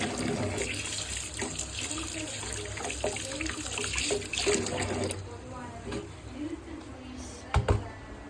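Tap water runs into a sink in a steady broadband rush, fairly close, easing off partway through, with a few knocks at the end.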